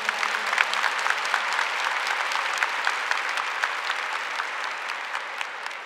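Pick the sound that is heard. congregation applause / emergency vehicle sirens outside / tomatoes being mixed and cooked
congregation applause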